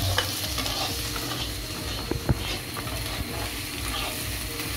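A tomato, ginger and garlic gravy fries on low heat while a spoon stirs it, giving a steady soft sizzle broken by occasional scrapes and taps against the pan.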